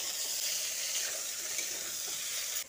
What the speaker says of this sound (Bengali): এবার বেগুনগুলোকে হাই হিটে নেড়ে চেড়ে ভালো করে লালচে করে ভেজে নেব।